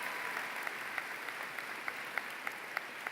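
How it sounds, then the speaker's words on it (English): Audience applause at a high school commencement ceremony, a faint, distant, steady wash of clapping from a large crowd with a few sharper claps standing out. "Give him a round of applause."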